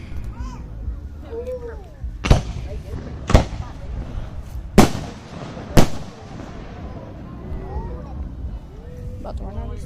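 Fireworks at a show in Kansas burst in four sharp, loud booms a second or so apart, with crackling and whistling between them while people talk nearby.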